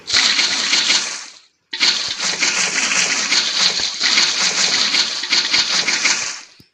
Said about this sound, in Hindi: अब हमें इन सब स्टेयर्स में पानी डालना है।